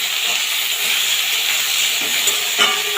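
Steady, loud sizzling of peanuts, coconut and potatoes frying together in hot oil, a continuous crackling hiss with no voices.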